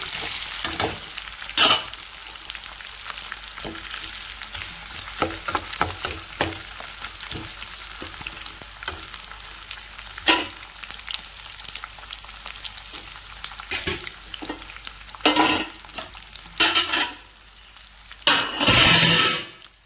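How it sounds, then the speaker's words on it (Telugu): Onions and curry leaves fry in a hot pan for a dondakaya (ivy gourd) dish with dried coconut, giving a steady sizzle broken by repeated sharp scraping and clanking of a spoon stirring against the pan, loudest near the end. "ఇప్పుడు కరివేపాకు వేస్తున్నాను. ఇప్పుడు ఉల్లిపాయలు వేస్తున్నాను."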